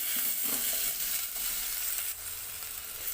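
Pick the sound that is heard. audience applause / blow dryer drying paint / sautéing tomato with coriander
sautéing tomato with coriander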